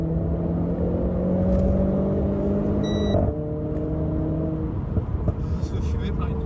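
A car builds speed from inside the cabin, its engine drone rising smoothly in pitch, then dropping as a gear changes before climbing again. The hum stays constant and close.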